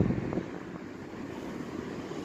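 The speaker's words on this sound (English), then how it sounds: "I apologize for the road noise, but we're by the road." Steady road traffic noise from a roadside spot, a continuous broadband rumble with wind-like buffeting, moderately loud and unbroken throughout, with no voices.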